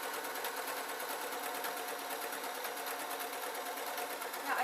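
A sewing machine runs steadily, stitching together fabric pieces of a Scottish tam hat in a continuous, even whir throughout, with no talking.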